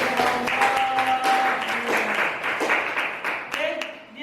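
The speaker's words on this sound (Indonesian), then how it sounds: "kasih tepuk tangan" Classroom students clapping after a group presentation, a scattered, uneven patter of hands with some talk and a faint tone mixed in, lasting a few seconds.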